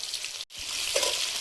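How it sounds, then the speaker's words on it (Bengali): Onion and green chili added to hot oil with whole cumin, a loud, close, continuous frying sizzle briefly cut by a short gap, then surging back with a crackling burst. "গোটা জিরে দিয়েছি আর দিচ্ছি পেঁয়াজ, কাঁচা লঙ্কা"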